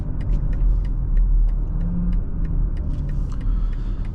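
A 2021 BMW X5 xDrive40i doing a launch-control start in Sport Plus, its engine a loud, deep continuous rumble building as the car accelerates, with faint ticking noises above it.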